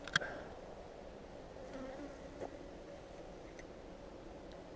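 Honeybees hum around a top bar hive, a steady, moderately faint drone of many wings with a few individual bees buzzing closer past, plus a brief click near the start.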